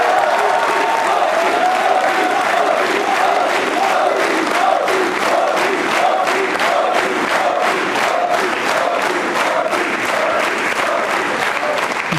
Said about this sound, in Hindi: तालियां बजाइए मोदी के सम्मान में, जोरदार तरीके से।